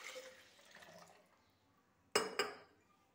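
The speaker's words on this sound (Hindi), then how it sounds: "सबसे पहले हम 2 ग्लास जो है वो दूध ऐड करेंगे" Two glasses of milk poured for a Rooh Afza shake: a soft, faint stream of liquid, followed by two sharp splashing clinks close by.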